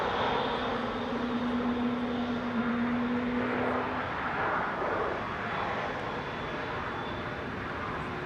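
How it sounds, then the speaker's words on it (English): An EasyJet Airbus A320 airliner departs Manchester Airport, its engines a loud, sustained broadband roar with a steady whine, holding strong throughout. "That was EasyJet 2015 to Alicante, operated by A320 Classic Gs at WH"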